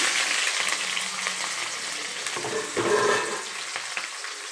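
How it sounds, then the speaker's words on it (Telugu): Chopped green chillies and onions hit well-heated oil for a fish curry, throwing up a loud, continuous sizzle close by with no talking. "ఆయిల్ బాగా హీట్ ఎక్కిందండి ఇప్పుడు ముందుగా కట్ చేసుకుని పచ్చిమిర్చి వేసేసి అలాగే ఆనియన్స్ కూడా వేసేస్తున్నాను"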